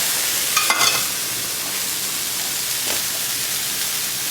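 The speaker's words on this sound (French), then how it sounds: "Je vais le mettre dans une poêle, donc pas de matière grasse pour le magret." Duck breast sears in a hot pan with no added fat, a steady close sizzle, a brief scraping clatter near the start, no talking.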